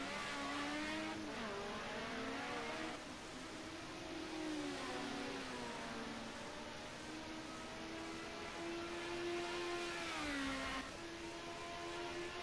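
A Ford Sierra Cosworth Group A race car circulates at Bathurst, its engine droning steadily with rising and falling pitch through gear changes, heard continuously at moderate distance without anyone speaking.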